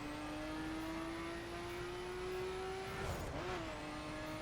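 A car engine in the racing video game The Crew holds a steady droning tone that rises slowly, then briefly dips and recovers as if shifting, under a constant moderate background of road noise.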